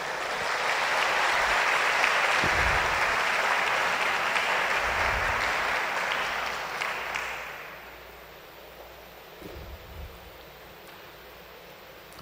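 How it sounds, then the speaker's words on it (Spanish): A church congregation applauds, a dense, steady wash of clapping that lasts about seven seconds and then fades out, leaving a quiet room with a few faint thumps. "Denle un aplauso al Señor."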